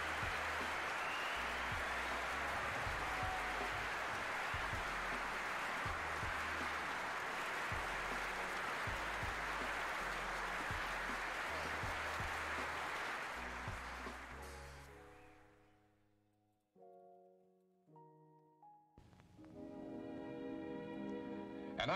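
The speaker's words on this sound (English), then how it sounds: "Round of applause for Liquid" Applause or crowd-like noise at the close of a livestream, steady and dense for about fifteen seconds before fading out, followed by a few sustained musical tones.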